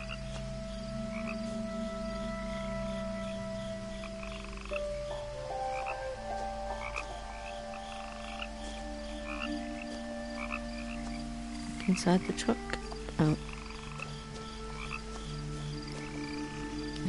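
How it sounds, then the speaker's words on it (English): Frogs croak in the video game What Remains of Edith Finch, a steady chorus of repeated calls that overlap and shift in pitch, with a brief burst of sharper croaks midway and a single spoken question near the start. "Oh. I can hear frogs."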